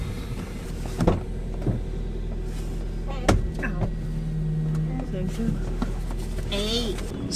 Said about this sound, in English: It feels somehow luxurious if you have this gate that opens for you.